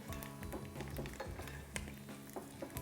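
Egg frying in hot oil in a pan as it is spooned over and basted, quiet sizzling with repeated soft scrapes and clinks of a spoon against the pan.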